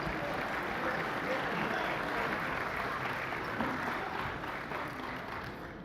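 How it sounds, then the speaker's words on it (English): A large banquet audience at a hall of fame dinner claps steadily, the applause sounding somewhat distant and moderately quiet, tapering slightly toward the end. "Let's give him another round of applause."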